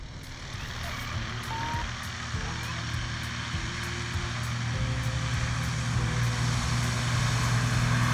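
A light propeller airplane rolls out after landing on a grass strip in a bowl, its engine drone steady and close and swelling slightly toward the end, with a faint intermittent beeping above it.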